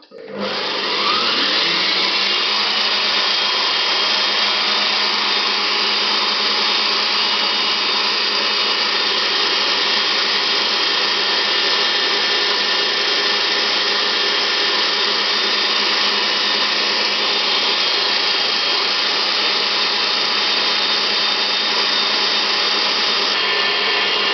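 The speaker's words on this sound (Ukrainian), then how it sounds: "У мене комбайн має 9 швидкості, я вмикаю на 8 швидкість і вливаю наш сироп." Food processor running at speed 8 of 9 to whip a marshmallow mixture as syrup is poured in. After a brief spin-up it holds a loud, steady motor whine close by for over twenty seconds, with no pauses.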